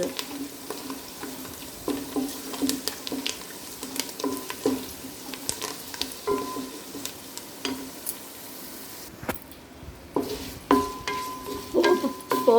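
Cumin spices for jeera rice sizzle and crackle in hot oil with steady popping, while a spoon stirs and scrapes the pan now and then.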